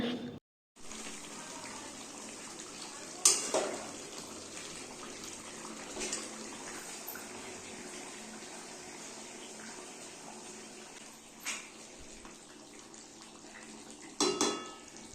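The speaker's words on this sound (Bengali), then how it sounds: "গ্যাসটা অনেকটাই বাড়ানো ছিল যেহেতু তাই একটু নাড়তে এসেছি" Curry cooking in a pan over a high gas flame is stirred, giving a few quiet metallic knocks of the spoon against the pan over a steady low hiss.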